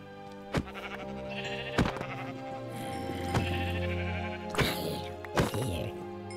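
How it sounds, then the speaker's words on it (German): Minecraft sheep bleat repeatedly over a steady background hum, with sharp clicks scattered between the calls, several overlapping bleats near the end. "oh, Schafe."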